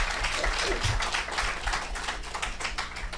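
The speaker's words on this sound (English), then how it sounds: "Let us give them another round of applause." A symposium audience gives a round of applause, many hands clapping at once in a dense, even patter that sounds moderately distant and carries on steadily without speech.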